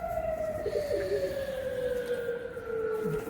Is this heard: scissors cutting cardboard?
no